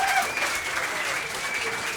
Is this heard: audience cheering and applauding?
yes